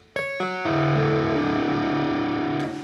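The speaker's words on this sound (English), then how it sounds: "Probably a little bit too much distortion." A loud sustained synth chord, harshly distorted and buzzy, built up note by note then held steady before fading slightly at the end, played on keyboard as music from the game Nioh.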